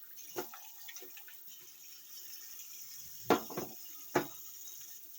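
Cold water runs steadily from a tap, with a few sharp splashes and clatters as fish are rinsed beneath it.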